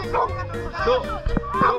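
An Old English Sheepdog yips and barks in short excited bursts, mixed with people talking nearby at the beach.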